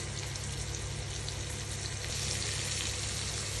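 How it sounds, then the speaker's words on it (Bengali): Pieces of fish fry in a pan for lemon butter fish, giving a steady, dense sizzle that stays close and even throughout, with no talking over it. "আমি মাছটা উল্টে পাল্টে এবার আমার দেখতে হবে যে ভাজা হচ্ছে কি হচ্ছে না।"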